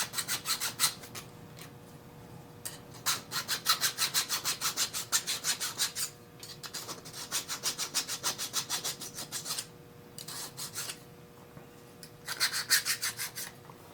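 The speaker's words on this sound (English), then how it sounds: "deburr this again and then file some radiuses on" Hand file rasping radiuses on a control plate in rhythmic bursts of quick forward strokes, close and fairly quiet, pausing briefly between sets.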